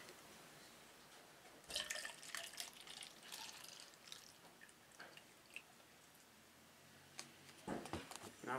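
Coloured water trickles and drips through a homemade fountain that runs without electricity, faint splashes and dribbles with a few louder spatters, quiet and close.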